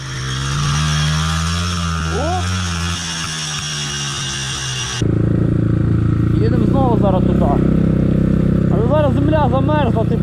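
Izh enduro motorcycle climbing a forest hill, its engine droning steadily and growing louder and rougher under load in the second half, with rising revs and no talk over it.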